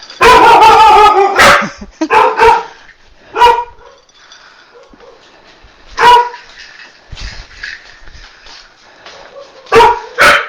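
A dog barks loudly and close, a rapid cluster of sharp barks at first, then isolated single barks and yips spaced out with quiet gaps in between.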